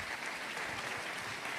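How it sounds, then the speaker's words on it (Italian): Applause at an award ceremony for the Premio Mestre di Pittura 2022 painting prize, a steady dense clapping from an audience filling the short moment with no gaps. "un bel applauso"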